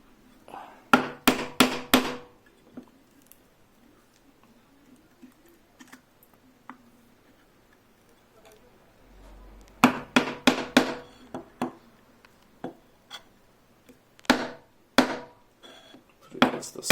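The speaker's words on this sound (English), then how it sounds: "it really doesn't take long to chop a mortise with just a chisel" A chisel chops a mortise in wood, giving clusters of sharp, fairly close mallet-like knocks in quick bursts separated by quiet gaps, with faint movement in between.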